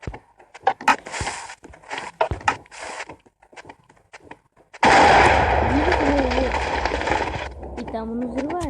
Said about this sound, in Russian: Это салют.